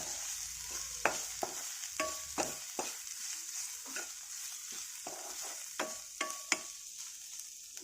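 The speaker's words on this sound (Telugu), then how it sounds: "ఉప్పు, కారం వేసుకొని మంచిగా కలబెట్టేసి అది ఒక 2 మినిట్స్ ఇట్లా కొంచెం ఉప్పు, కారం ఆనియన్స్ పట్టేలాగా ఉండనియాలి" Onions fry in a pan with salt and chili powder for boondi curry while a spoon stirs them. A steady sizzle runs under irregular scraping clicks and knocks from the stirring, with no talk.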